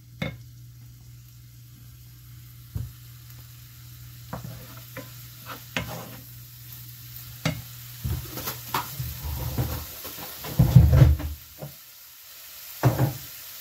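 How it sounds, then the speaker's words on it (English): Pork rinds frying in a pan alongside ground beef on the stove, with a low steady sizzle broken by spatula scrapes, knocks and stirring clatter, close and growing busier toward the end, with no talking. "now that we've got the pork rinds in the pan, they're ready to go"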